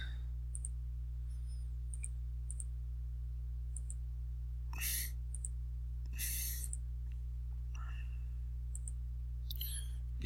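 Computer mouse clicks during work in PowerPoint, several sharp isolated taps spread irregularly over a steady electrical hum, with a few louder rustling bursts in between.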